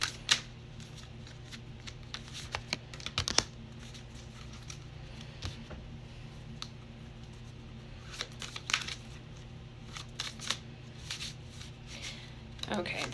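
Tarot cards are handled and shuffled close by in a quiet room, giving soft, intermittent riffling and rustling bursts over a low background hum.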